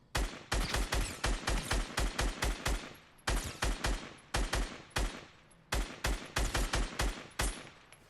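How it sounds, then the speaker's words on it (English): Repeated short bursts of rapid gunfire in Fortnite come in a regular, punchy pattern with brief pauses between volleys, loud and close with no talking. "I think somebody else is shooting at him."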